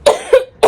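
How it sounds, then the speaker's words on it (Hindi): A woman coughs three times in quick succession, each burst loud, close and harsh, with short gaps between them. "बाप रे खांसी"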